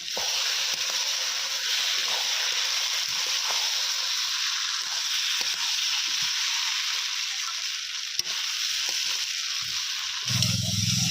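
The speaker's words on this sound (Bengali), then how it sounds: "এবার দিয়ে দেবো নাপিত কোম্পানির ফ্রাইড রাইস চাল, এর মধ্যে দিয়ে ভালোভাবে ভেজে নিতে হবে" Rice with spices frying in a pan over a village cooking fire, a steady loud sizzle running throughout with occasional stirring scrapes and a brief clatter near the end.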